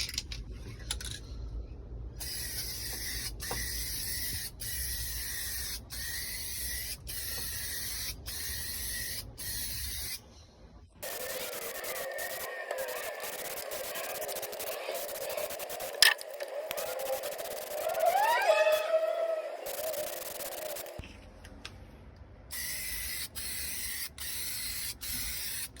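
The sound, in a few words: spray painting second coat on Toyota Land Cruiser floor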